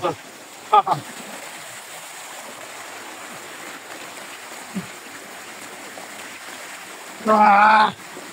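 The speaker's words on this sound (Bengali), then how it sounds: "এটা হচ্ছে ঝর্ণা।" Rishang waterfall in the hills of Khagrachari gives a steady rushing roar of falling water throughout, broken by a few brief bursts of nearby voices.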